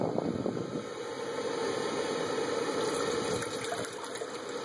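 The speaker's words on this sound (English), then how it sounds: "So we've got 2 cups of water. You can see right here, just a little over 2 cups of water, and we're gonna put that in the" Just over two cups of water pour steadily into a GSI Soloist pot, a continuous close gush of liquid lasting several seconds with no talking.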